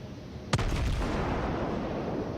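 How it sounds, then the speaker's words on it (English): Naval gunfire in World of Warships strikes an island, a single sharp distant boom followed by a rumbling decay under steady game ambience, with no talking. "that gunfire hitting the island, that was meant for me."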